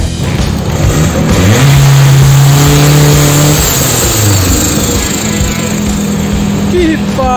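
A turbocharged car engine with a wastegate cut-off revs hard and loud up close, pitch climbing and dropping across throttle blips amid a rough, roaring exhaust drone.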